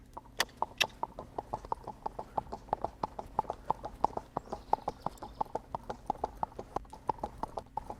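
Steady, rhythmic hoofbeats of a horse moving in a slightly uneven, somewhat trotty four-beat foxtrot gait, clear clip-clops close by with no talking.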